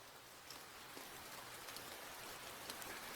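Rain falling in the game Nie No Hakoniwa, Dollhouse of Offerings, a dense, even hiss of steady rainfall with scattered faint drops, continuous and moderately quiet throughout.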